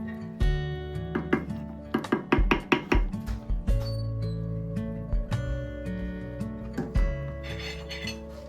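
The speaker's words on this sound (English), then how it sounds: "Just going to give it a quick stir." A spoon stirs a pot of Zuppa Toscana soup, producing a quick run of knocks and scrapes against the pot's side, close and fairly loud, then a few slower clinks over a soft musical background.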